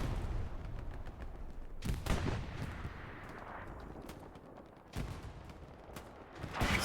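Repeated gunshots and heavy booms of a large-scale World War II style online battle at Sainte-Mère-Église, with tanks rolling in; sharp cracks burst out over a constant rumbling din of distant fire.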